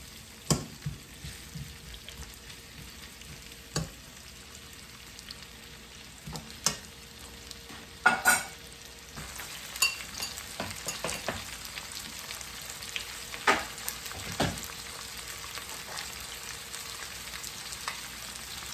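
Onions caramelize in a pan on a stovetop for a Jamaican-style pepper steak pasta, giving a soft, steady sizzle broken by scattered clicks and scrapes of stirring.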